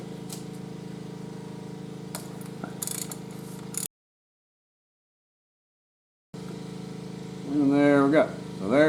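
A socket wrench with a 24 mm socket loosens the oil filter housing on a BMW, giving close ratchet clicks and mechanical rattling, then a brief silence and a rising whining tone at the end.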